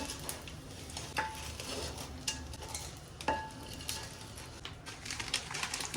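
Edible gum (dink) puffing in a hot pan for methi and dink ladoo: soft crackling and sizzling with occasional sharp pops and scraping, quiet and close.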